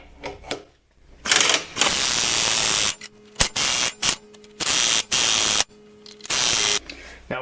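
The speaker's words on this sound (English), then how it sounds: "I'm just going to tighten down on that with the impact gun" An impact gun fires in a series of loud, close bursts of rapid hammering as it tightens a nut on a press tool forcing a vehicle U-joint into place, with short pauses between bursts.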